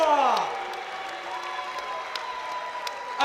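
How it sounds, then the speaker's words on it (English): Applause from a boxing crowd after a Commonwealth welterweight title fight, a steady wash of clapping with scattered cheers, held at an even level beneath a ring announcer's amplified voice. "And a round of applause for Joseph Bad Boy Butler."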